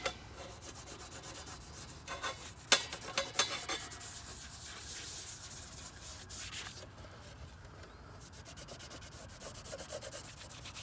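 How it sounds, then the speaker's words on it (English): Hard grease being scraped inside a Vulcan commercial fryer, a steady close raspy rubbing and scraping with a few sharp metallic clicks, continuing without talk. "You do just like this gently, so you can scrape the hard grease."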